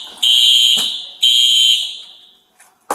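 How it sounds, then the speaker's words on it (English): A loud, shrill hotel fire alarm blares in two long electronic bursts, then cuts out, followed by a faint clatter and a short knock. "the fire alarm went off"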